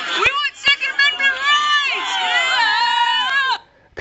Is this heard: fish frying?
no